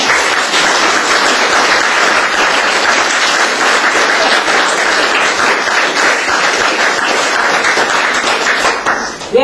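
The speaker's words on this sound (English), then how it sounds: "Please give them a round of applause." Sustained, dense audience applause fills a hall at a UN International Day of Peace event, loud and steady for about nine seconds before it begins to drop away at the very end.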